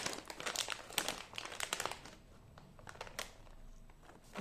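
Plastic packaging crinkles and crackles close by as hands struggle to tear it open, with dense bursts of rustling that ease off and return; no one speaks.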